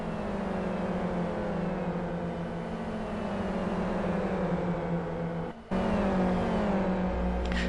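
Touring cars race on a circuit during a championship race, their engines giving a sustained, loud droning roar with shifting pitch as they accelerate, then a brief dip and gear change before the roar resumes, with no talking.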